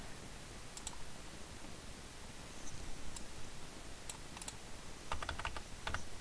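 Someone typing on a computer keyboard while demonstrating insert and overwrite modes: scattered close key clicks, a few isolated presses and then a quick burst of several keystrokes near the end, over faint background hiss.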